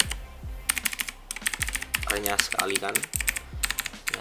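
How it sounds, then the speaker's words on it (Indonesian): Typing on an Imperion Mech 7 mechanical keyboard with blue switches: sharp clicky keystrokes in uneven bursts, close and crisp, with someone speaking briefly partway through. "yang Imperial ini Mecha 7 menggunakan blue switch dan bunyinya seperti ini."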